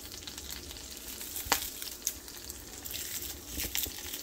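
Curry leaves, dried and fresh, tossed into hot oil for South Indian lemon rice give a soft, steady sizzle with a few sharp crackling spurts, fairly quiet and with no voices.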